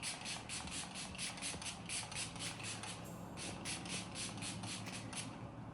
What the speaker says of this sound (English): I'm gonna go ahead and use this Milani Make It Last setting spray